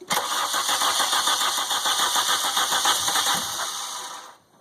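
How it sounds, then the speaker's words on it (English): VW MK2 GTI converted to motorcycle carburettors cranking over, a rapid rhythmic chugging of the starter turning the engine for about four seconds before fading out, loud and close. "Let's go ahead and start it. We'll see if there's any leaks."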